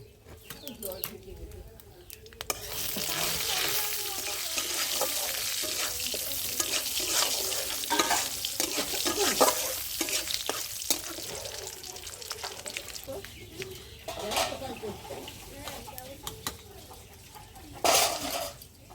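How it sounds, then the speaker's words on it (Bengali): Mustard seeds and three dried red chillies fry in hot mustard oil as a tempering for dal, giving a loud, steady sizzle with scattered crackles and pops that starts after a quiet moment and carries on throughout, with some voice underneath. "তেল দিয়ে দিলাম, সর্ষের তেল, সর্ষে দিয়ে দিলাম, তিনটে শুকনো লঙ্কা"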